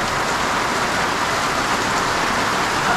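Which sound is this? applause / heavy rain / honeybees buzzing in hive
heavy rain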